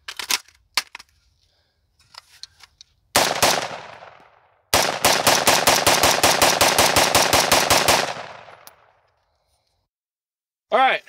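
A Daniel Defense DDM4V7 rifle fires close and loud during a torture test: a few separate shots, then a short burst, then a long rapid string of about fifteen evenly spaced rounds emptying the magazine, followed by silence and a brief metallic clack.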